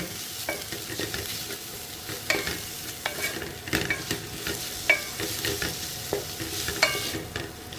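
Steady frying sizzle of tomatoes cooking down in a pan with repeated scraping and stirring strokes from a spatula, close by, no talking.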